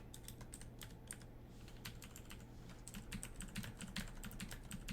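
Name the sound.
computer keyboard keys pressed while playing Dungeon Crawl Stone Soup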